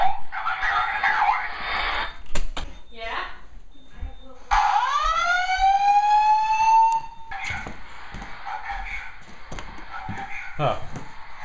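A Simplex 4006 voice evacuation fire alarm system sounds during a building system test, with a loud rising whoop tone followed by a spoken announcement, heard near and echoing indoors.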